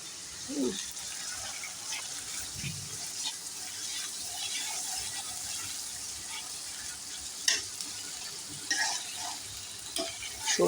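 Garlic and onion paste frying in mustard oil gives a faint, steady sizzle with occasional stirring scrapes and clinks of a utensil.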